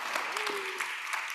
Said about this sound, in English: If we could give a round of applause to our wonderful panel.